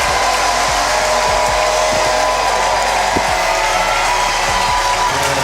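A ballpark crowd roars for an eighth-inning home run at a Knoxville Smokies minor-league baseball game, a loud, steady wash of cheering and applause that fills the whole stretch without pause.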